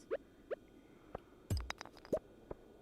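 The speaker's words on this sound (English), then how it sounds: "just doing some nice small little explosions" A handful of small, soft popping bursts with a deeper thump in the middle, scattered irregularly over a quiet background: tiny explosions in Stardew Valley.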